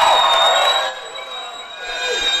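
A boxing crowd gives fighter Casey Miliken a brief cheer during his ring introduction, a loud burst of applause and shouts that quickly fades into a lower murmur and then swells slightly again.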